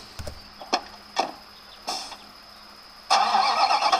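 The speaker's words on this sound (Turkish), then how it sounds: "Şimdi küçük düz kasalı kamyonumuza girelim." Small flatbed truck engine in the Construction Simulator 2015 video game: a few faint clicks, then the engine starts and settles into a steady, fairly loud running sound.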